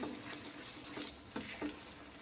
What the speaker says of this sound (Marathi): तर आता मंद आचेवर आपल्याला व्यवस्थित ही ग्रेव्ही तेलामध्ये परतून घ्यायची आहे।